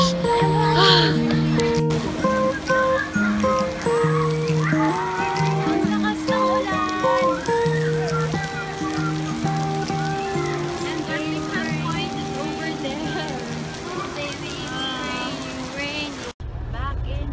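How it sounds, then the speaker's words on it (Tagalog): Light rain patters steadily at an outdoor spot in Legoland Malaysia, a soft continuous hiss under sustained singing and talking voices nearby. "habang medyo mahina pa yung ulan"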